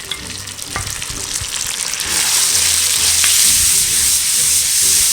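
Mutton paya masala with yogurt frying on medium-low heat, a close, steady sizzle that grows louder partway through, with a few soft stirring knocks and no talk.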